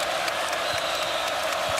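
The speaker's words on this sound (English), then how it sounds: "Crowd has not been as loud as normal, but now they're getting into it again." College basketball crowd at an Iowa State versus Purdue game applauding and cheering steadily, a continuous roar of claps and shouts.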